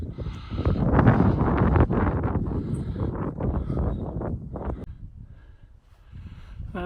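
Strong wind buffeting a microphone high on open Dartmoor moorland near a stone circle, a loud continuous rumbling roar with gusty surges that eases briefly toward the end before building again.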